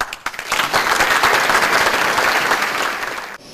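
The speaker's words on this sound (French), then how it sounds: "je vous demande aussi de les applaudir" Hearty applause from a crowd at a vintage car club event, swelling quickly into dense, sustained clapping that holds steady and then breaks off abruptly.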